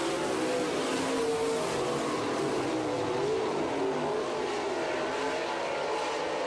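Dirt track race cars racing in a heat at LA Raceway in Lamont, Missouri: a continuous, dense roar of several engines blending together, steady and moderately distant throughout.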